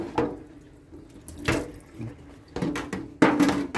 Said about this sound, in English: I will wash them, rinse them one more time